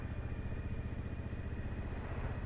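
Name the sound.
loud motorcycle engine and exhaust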